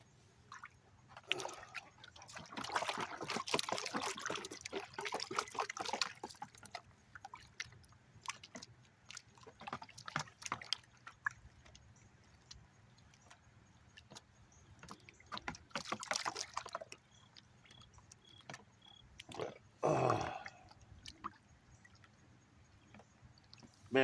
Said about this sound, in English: We're going to pan out the trommel run concentrates from the gold hog sluice.